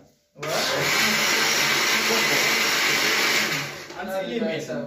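A blender being washed whirs loudly and steadily for about four seconds, then winds down as faint voices come through.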